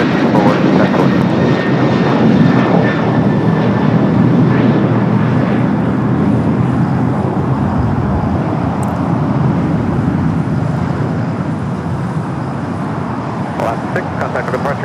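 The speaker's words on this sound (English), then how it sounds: "That was the flight heading to Reagan National on that 737-800" An Alaska Airlines Boeing 737-800 departs LAX, its jet engines producing a loud, sustained roar that fills the whole stretch and eases slightly toward the end, with faint road traffic underneath.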